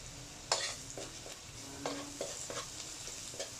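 Chopped garlic sautéing in a pan for chicken tinola, a steady close sizzle with several sharp scraping stirs of a utensil spread through it and no voices.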